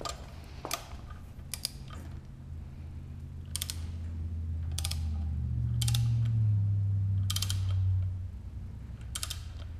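A torque wrench tightens bolts during an LS engine swap into a Porsche 944, giving sharp, evenly spaced clicks roughly once a second over a low mechanical hum that swells in the middle.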